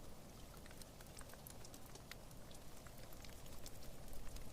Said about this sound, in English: this super mellow mossy rain sound that comes out there